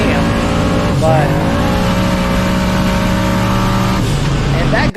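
A Mustang launches hard in a North Florida street race on cool asphalt, its engine roaring loud and sustained throughout, with a pitch dip and rise near the start as it accelerates and a crowd voice mixed underneath.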